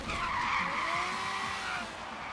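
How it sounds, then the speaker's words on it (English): A Ferrari F50 GT in Forza Horizon 3, its engine whining at high revs with tires skidding and squealing, moderately loud and continuous before easing slightly near the end. "I wish it had like sort of a deeper engine noise, but I know that this is probably actually fairly close to what the Ferrari F50 GT would sound like"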